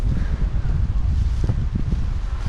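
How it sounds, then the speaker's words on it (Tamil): Strong wind gusts buffet the microphone outdoors on a hillside trail, a loud low rumble that swells and dips unevenly throughout, with no clear speech. "காற்றும் அதே மாதிரி அடிக்குது."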